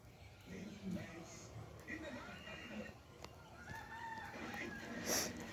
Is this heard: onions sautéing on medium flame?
no